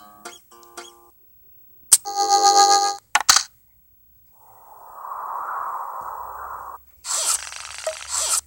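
A cell phone ringtone effect in the video game Henry Stickman Escaping the Prison, heard as short electronic beeps, a tonal ringing burst, a breathy whoosh-like swell and a final bright buzzing burst, separated by silent gaps.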